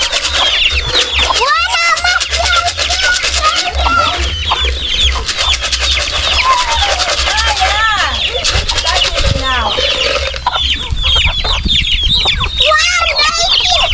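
Hens cluck and squawk loudly and close by throughout, with rooster-like calls mixed in, on an African homestead where organic chicken is being prepared, while people talk over the birds.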